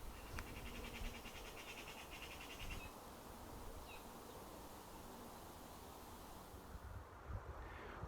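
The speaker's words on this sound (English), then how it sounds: "Just listen to the birds and the wind in the leaves." Outdoors in a quiet spot with a bench, a steady broadband rush of wind through leaves fills the whole stretch. High thin bird chirps come through faintly at moments, and a buzzy insect-like texture sits in the background.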